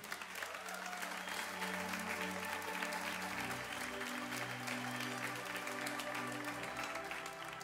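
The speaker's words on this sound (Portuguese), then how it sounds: "pode aplaudir o Senhor" A church congregation applauds during a worship service, sustained clapping from a large crowd mixed with faint music and voices, continuing for several seconds.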